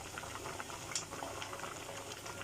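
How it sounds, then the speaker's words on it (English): Cubes of paneer cottage cheese frying in hot oil, a steady low sizzle and bubble running throughout with a few faint pops, quiet and close with no talking. "we keep flipping them while we are frying them"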